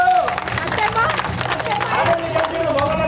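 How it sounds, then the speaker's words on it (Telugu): An audience at a senior citizens' association gathering in Komanpalli village claps together in a steady, dense patter, mixed with crowd murmur and voices talking over it. "గట్టిగా చప్పట్లు"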